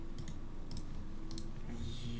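Faint clusters of light clicking come through a podcast call line, in quick double and triple bursts over a steady hum of background noise.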